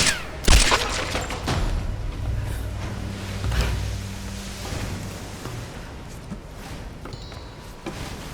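Scattered gunshots ring out in the PS5 Tomb Raider game, a few sharp, fairly distant bangs spread apart over a low ambient musical backdrop, with no talking.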